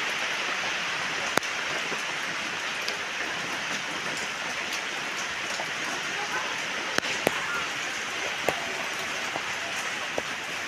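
Heavy rain pours steadily in the rainy season, a dense continuous hiss with scattered sharp drip and tap sounds close by.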